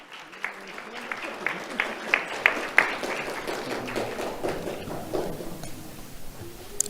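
An audience at a community awards ceremony claps for an award recipient, a moderate patter of hands with a few sharper claps, heard from a little distance alongside some talking.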